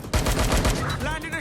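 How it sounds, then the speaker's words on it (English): Loud, close automatic gunfire in the video game Watch Dogs: Legion, a rapid rattling burst that fades as a voice speaks over the end. "Careful! Shots fired!"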